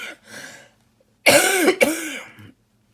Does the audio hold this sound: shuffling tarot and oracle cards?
no